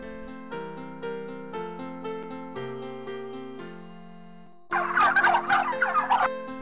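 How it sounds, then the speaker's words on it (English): A turkey gobbles in one loud, rapid, warbling burst near the end, after a passage of steady musical notes. "Turkey."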